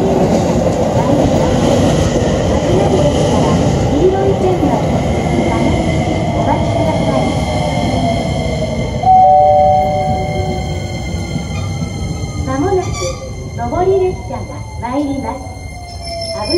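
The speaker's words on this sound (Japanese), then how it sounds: "まもなく上り列車が参ります。" An E257 series limited express train rumbles into Chino Station in Japan with a steady roar, a long horn-like tone sounding midway, while a Japanese station announcement plays over the noise.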